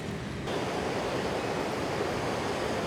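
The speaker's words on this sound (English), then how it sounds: "it's starting to really get windy" Gusty wind buffeting a microphone outdoors near a river bridge before rain, a steady broad roar that rises abruptly after a brief quieter start, with no voices.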